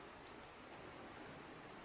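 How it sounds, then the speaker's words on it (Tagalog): Heavy rain with strong wind hisses steadily and densely, with a few faint drop ticks over the constant wash. "Kasi malakas yung ulan at saka hangin."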